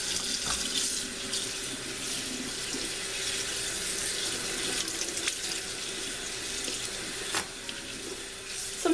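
Tap water runs steadily into a sink while hand-dyed wool fabric is rinsed of excess dye, a close continuous splashing hiss with faint handling sounds.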